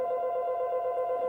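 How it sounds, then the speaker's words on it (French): A telephone rings during a stage play, a steady electronic bell tone held briefly and clearly, with no voices over it. "Ah, le téléphone."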